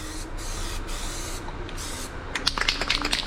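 Rubber spray paint hisses steadily from an aerosol can onto a KTM motorcycle, a continuous close spray broken by short pauses, with a few quicker, rattly bursts near the end.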